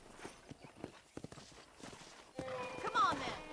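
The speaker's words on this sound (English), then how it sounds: "I picked out a fine horse for you." Horse hooves clip-clop in the video game Red Dead Redemption, a series of sharp, fairly faint hoofbeats, followed by a louder burst of ranch ambience with a whinny-like call, while voices talk.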